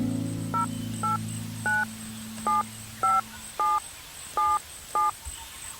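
A telephone is dialed, eight clear touch-tone beeps at an even pace, each brief and distinct, following a low humming tone, heard close with no talking.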